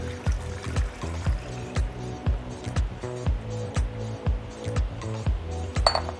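Milk pours into a glass vessel for an old-school punch, with a run of rhythmic clinks and a light trickle close by and no voices.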